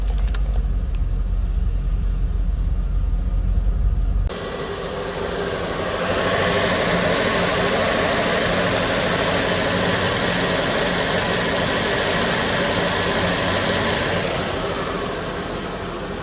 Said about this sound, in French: On a démarré la voiture, on a vérifié le compresseur tourne